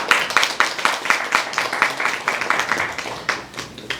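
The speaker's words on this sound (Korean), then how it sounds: "박수로 맞아주세요" An audience at a community theatre reading performance claps to welcome a local committee chairman, a close, fairly loud patter of individual hand claps, uneven and sustained.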